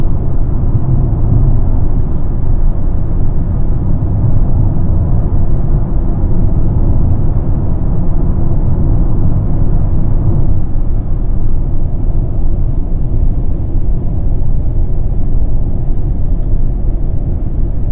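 Mercedes C180 travelling on Auckland's southern motorway near Papakura on a Saturday evening, giving a steady, loud low rumble of engine and road noise from inside the car, constant throughout with no voices.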